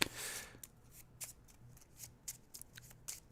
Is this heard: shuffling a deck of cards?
yes